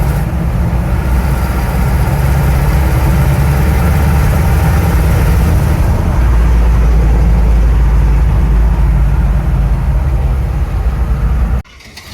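A 1975 Chevrolet C10 pickup engine runs steadily, a loud, close, continuous low rumble that holds for about eleven seconds before cutting off sharply near the end.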